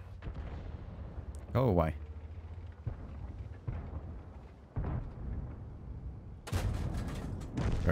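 Artillery shells and tank cannon fire in World of Tanks, several heavy booming blasts with rumbling tails spread across the clip, one loud burst near the start and another near the end, with someone talking between them.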